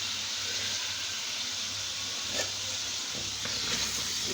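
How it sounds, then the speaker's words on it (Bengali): Potatoes go into hot masala frying in a pan for a fish curry, and a steady sizzling hiss holds throughout, with a couple of brief stirring knocks near the middle. "তো এখানে আমি এখন আলুগুলো দিয়ে দিব"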